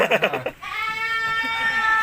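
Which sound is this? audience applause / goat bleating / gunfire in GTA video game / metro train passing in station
goat bleating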